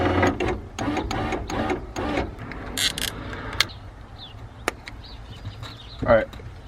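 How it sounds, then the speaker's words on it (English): Power window motor in a Nissan S14 door, tested with the panel off, whirring in a series of rhythmic bursts up close, followed by scattered mechanical clicks and a quieter stretch. "let me just go ahead and make sure that the window works"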